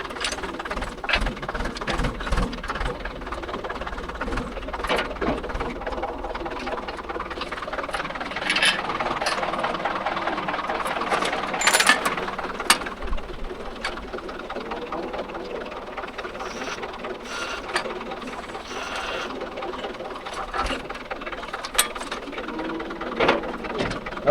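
Mahindra 575 DI tractor pulling a 5-point cultivator across farmland, a steady rattling engine drone running throughout with clanking implement noise and no speech.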